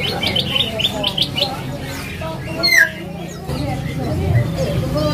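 Tame songbirds, including a murai, chirp and tweet in short bursts at an Indonesian bird kiosk, close and fairly loud, while people talk over them.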